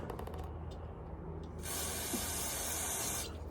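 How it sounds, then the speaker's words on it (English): Cleaner sprays in a steady hiss for about a second and a half onto the small carburetor gasket of a Poulan 3400 chainsaw, following some faint clicks and handling noise, close and fairly loud. "I'm just going to spray that off."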